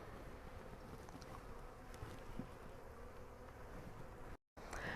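A dense, continuous buzz of many honey bees close by around an open hive, a steady humming drone with faint wind, briefly cutting out near the end.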